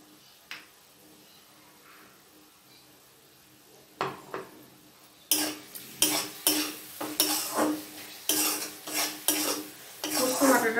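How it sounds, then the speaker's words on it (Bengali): Poppy seed paste added to a pan and stirred with a metal utensil, starting with a few scattered clinks, then a run of loud scraping strokes against the pan over a faint sizzle. "এখন দেব পোস্ত বাটাটা।"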